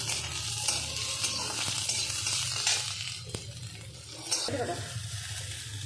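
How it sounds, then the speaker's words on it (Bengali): Onions fry in a pan over high flame, giving a continuous bright hiss close by, with occasional spatula taps and a few stirring knocks. "তারপরে পেঁয়াজটাকে একটু ভাজা ভাজা করবো।"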